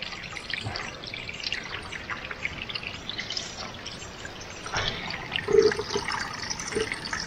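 Water from a mountain spring trickles and splashes steadily as it is collected, a continuous close running-water sound with brief clinks near the end.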